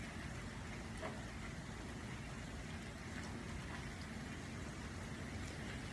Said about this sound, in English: We can come back to the sound of the rain, gentle and effortlessly.